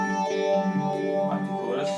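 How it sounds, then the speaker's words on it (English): A sustained electric guitar chord played through a Line 6 Pod HD500 with a phaser effect, the tone swirling with sweeping shifts in brightness over about two seconds. "Push this like a toggle to phaser."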